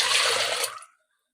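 Water poured into a pressure cooker holding masoor and moong dal, a steady close splashing rush lasting under a second before stopping abruptly into silence.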